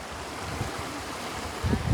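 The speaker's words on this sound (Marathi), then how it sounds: "खळखळत नुसता पाणी." Water gurgling and lapping around a boat, a soft steady wash with a slightly louder splash near the end.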